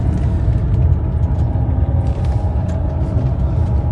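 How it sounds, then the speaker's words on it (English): A Land Rover Range Rover engine held in gear gives a steady, loud, low rumbling drone, heard alone without speech. "you guys can hear that engine rev."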